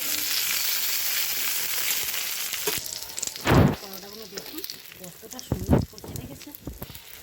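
Tomato paratha frying in an oiled pan, a soft continuous sizzle with bursts of crackle as more oil goes on, while someone talks over it.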